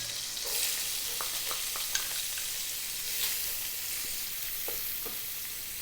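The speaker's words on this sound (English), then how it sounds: "We're going to grab our onion and we're going to drop that in." Chopped onion dropped into hot flavoured oil in a pan on medium heat for garlic chicken pesto pasta, giving a steady, moderately quiet sizzle with a few light clicks and stirring sounds throughout, with no voices.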